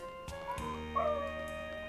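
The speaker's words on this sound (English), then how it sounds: "So my dog is a corgi, which is a herding dog." A small corgi dog gives a few short whiny yips and whimpers, fairly close and moderately loud, with no talking.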